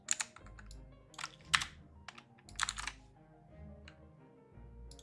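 A computer mouse gives several sharp, quiet clicks in uneven bursts, with short gaps of near silence between them and no talking.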